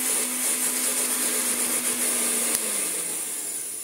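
A restored Hoover Dustette 2614B handheld vacuum cleaner runs steadily up close with a bright, constant motor whine and airflow roar, a small click near the end, and no voices.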